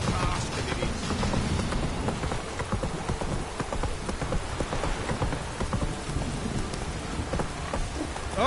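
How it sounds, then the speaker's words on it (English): Heavy rain pours down in a dense, unbroken hiss with scattered drop impacts, loud and continuous from start to finish. "This downpour's a bastard, it is."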